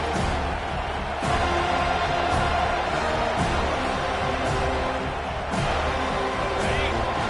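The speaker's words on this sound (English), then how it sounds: "This crowd, full throat, splitting the eardrums" A stadium crowd at a USC versus Florida State college football game roars in a loud, sustained wash of voices, with sharp swells and thuds rising above the steady din.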